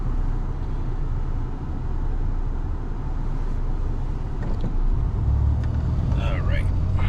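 A Toyota Tacoma pickup with a 3.4L engine and a sluggish-performance fault drives in traffic, giving a steady, continuous rumble of engine and road noise with no talking.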